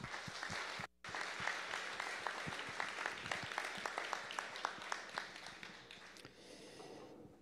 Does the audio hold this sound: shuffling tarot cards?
no